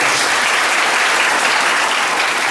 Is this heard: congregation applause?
yes